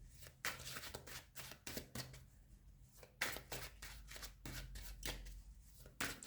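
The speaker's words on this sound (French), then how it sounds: "Je vais tirer une autre carte là-dessus" Tarot cards being shuffled and drawn, with quick papery riffles and slaps in irregular bursts separated by short pauses, close and fairly faint, with no talk.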